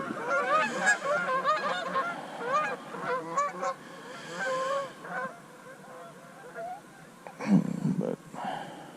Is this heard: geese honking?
yes